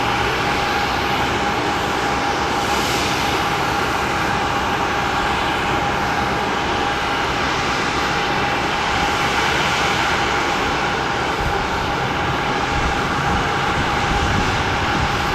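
A Boeing 767 aircraft passes with a loud, steady jet engine roar and a sustained whine that holds for the whole stretch without fading.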